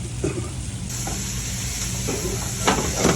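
White wine sauce reducing in a pan for steak au poivre, a steady close sizzle and hiss with occasional stirring scrapes and bubbling pops.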